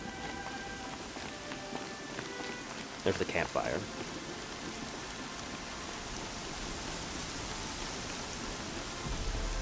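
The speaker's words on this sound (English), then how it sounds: "the rain, it does a fantastic job" Steady rain falls in the video game Horizon Zero Dawn, a soft even hiss spread across the whole stretch, with a brief voice and a short burst of game sound partway through.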